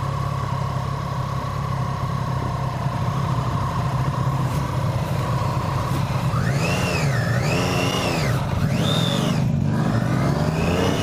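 A Triumph 675 Street Triple motorcycle engine nearly stalls, heard as a steady low idle that then surges in a couple of uneven revs before sputtering, close and moderately loud with no talking.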